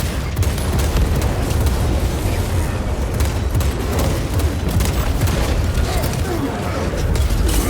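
A frag grenade blast in Warhammer 40,000: Space Marine 2 during loud combat, with dense booming impacts and gunfire layered over a constant roar of battle, under shouted squad callouts.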